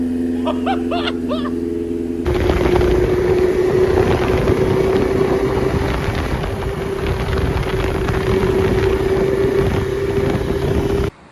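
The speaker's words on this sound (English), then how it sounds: "Well, bike's running minty fresh" A 1990 Suzuki Katana GSX750F 750 cc motorcycle engine running steadily, a loud, close, even hum with a droning tone that holds for about nine seconds after a brief different sound at the start.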